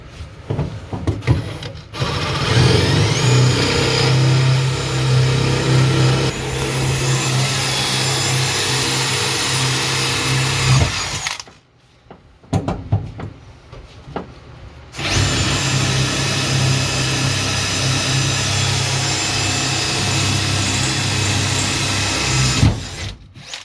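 A power drill with a poor bit grinds loudly through a car's floor near a cross member in two long bursts, separated by a short pause with rattling, the motor steady and close.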